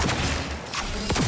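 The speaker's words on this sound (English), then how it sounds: "I went in guns blazing and murdered everybody with tech weapons." Tech weapons fire in Cyberpunk 2077 during a guns-blazing shootout, a quick string of loud, sharp shots with booming tails, close and without talk.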